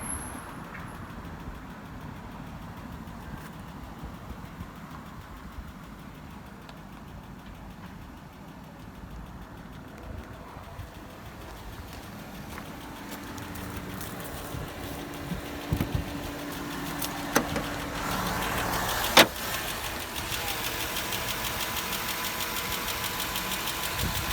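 A 2006 Mercedes E500 wagon engine, run after sitting for seven years, idles steadily with a low rumbling hum and some mechanical knocking, growing a bit louder toward the end.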